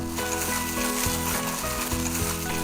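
Spicy Korean pork jeyuk bokkeum stir-fries in a pan with a constant loud sizzle, and rhythmic thuds from stirring or tossing repeat every half second or so underneath.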